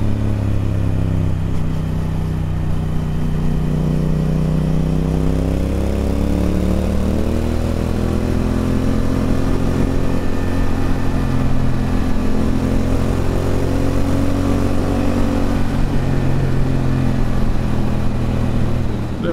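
A Triumph Speed Twin motorcycle engine revs hard on a newly asphalted road, its steady, loud, close drone holding high revs for about nineteen seconds with shifting tones.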